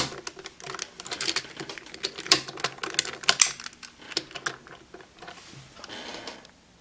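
A plastic DX Popynica Neo Beet Machine toy beetle from B-Fighter Kabuto has its claws snapped back into place, giving a quick run of sharp, close plastic clicks in an uneven rhythm that thins out toward the end.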